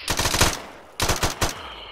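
Automatic gunfire in Arma 3 comes as two sharp, rapid bursts of rattling shots, loud and close, separated by a short pause.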